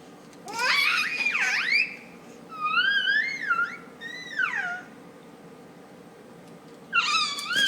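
A cat meowing in a series of long, wavering, high cries, four drawn-out calls spaced across the moment with a pause before the last, close and fairly loud with no talk.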